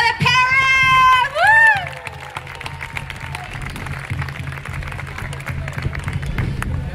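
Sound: applause and cheering

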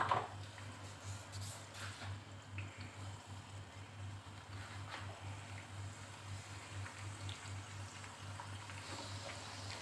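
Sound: wheat dough roti frying in hot oil

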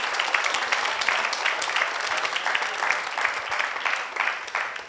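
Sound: applause for the teachers

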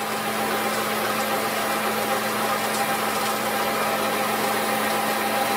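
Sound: Bell and Howell 8mm Filmo projector motor running

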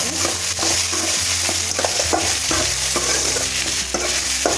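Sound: stirring potatoes frying in a pan

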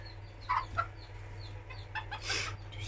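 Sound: hen clucking

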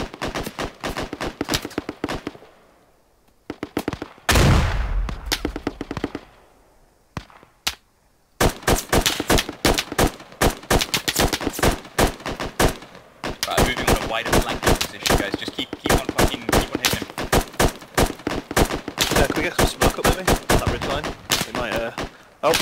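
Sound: gunfire in the video game Squad

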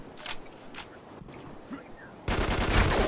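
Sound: gunfire in Spec Ops The Line video game

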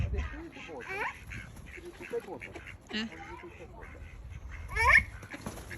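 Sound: ducks quacking while being chased

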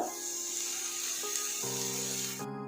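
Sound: onion frying in oil in a pan

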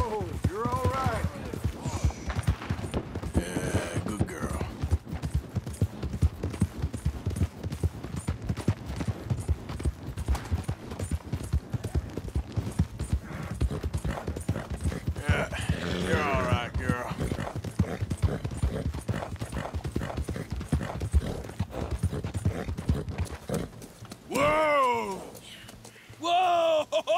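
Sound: horse hooves galloping in the video game Red Dead Redemption 2

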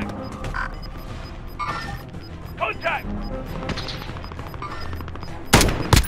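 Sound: gunfire in video game Call of Duty parody

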